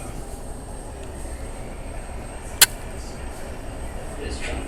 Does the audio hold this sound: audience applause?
no